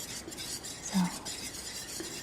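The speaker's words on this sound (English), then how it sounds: "I had to get a whisk because the wooden spoon was not breaking up the lumps" A whisk stirring a lumpy mixture in a pot while making kimchi gives soft, steady scraping and swishing, quiet and close, with one slightly heavier knock midway.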